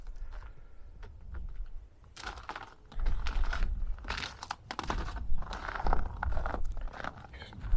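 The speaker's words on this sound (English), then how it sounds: "I don't know if you can hear the crunch of the snow" Snow crunches underfoot in cold weather during an Ohio snowstorm, a series of close, crisp irregular steps.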